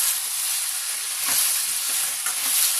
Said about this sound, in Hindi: ये अच्छे से मिक्स करने के बाद में हम अपनी सीख डाल देंगे और सीख को भी अच्छे से मिक्स कर लेंगे